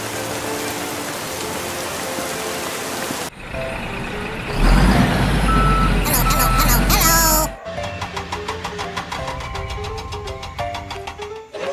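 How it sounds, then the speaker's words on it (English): Rain falling heavily and steadily in a hiss that fills the scene, broken by louder splashing and then beeping, truck-like sounds. "It finally rained."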